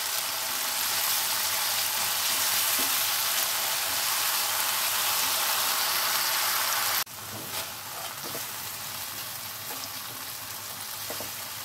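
Spice paste frying in hot oil for kalonji katla fish curry, a loud continuous hiss and sizzle that drops abruptly partway through to a softer, steady crackle, with occasional stirring clinks.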